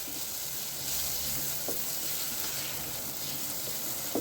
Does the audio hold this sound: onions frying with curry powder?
yes